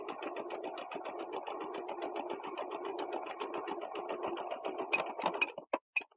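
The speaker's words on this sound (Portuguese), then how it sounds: "você vai na máquina e vai fazer uma outra costurinha bem na beiradinha aqui" A sewing machine stitching along a fabric edge, a steady rapid mechanical chatter at close range that stops near the end with a few short final bursts.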